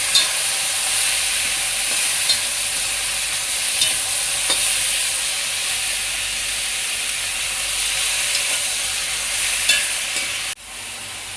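Chopped tomatoes sauté in a hot pan for a tomato chutney, giving a steady, close sizzling hiss with occasional stirring scrapes that runs unbroken until it cuts off near the end.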